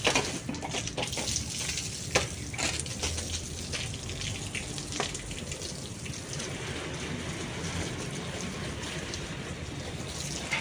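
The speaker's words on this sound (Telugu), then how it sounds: "ఫుల్గా వేసేయాలి వాటర్." Water pours steadily into flower pots, a continuous close splashing wash running for about ten seconds with no talk.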